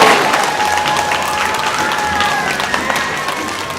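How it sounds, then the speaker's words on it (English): An audience at a fundraising event breaks into steady applause, a dense patter of many hands clapping that fills the room, loud at first and easing slightly as it continues. "Give yourself a round of applause."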